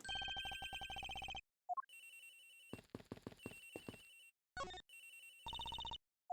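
Cell phone in the game Ace Attorney Investigations rings with a lullaby ringtone: melodic bursts repeating in several phrases, separated by short pauses and clicks, loud and alone.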